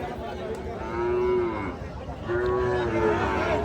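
A cow moos twice, long drawn-out lows separated by a short pause, over a low murmur of crowd noise at Ranigonj livestock market, Ghoraghat, Dinajpur, Bangladesh.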